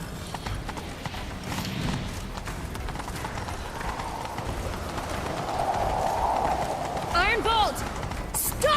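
A horse gallops at a steady pace in The Witcher 3, its rapid hoofbeats running continuously under background sound. A brief neigh-like call rises near the end.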